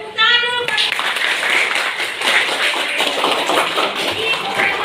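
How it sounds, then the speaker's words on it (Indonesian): Classroom students clapping together during a religious studies lesson, a burst of hand claps that starts abruptly and carries on as a busy, close patter with some shuffling and children's voices mixed in. "Tepuk tangan dulu."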